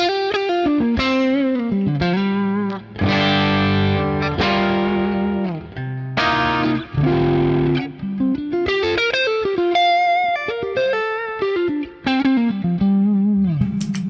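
Electric guitar through a Deluxe Reverb amp with a +12 dB wireless boost, no pedals, plays a distorted melodic run with sustained notes and bends, loud and continuous.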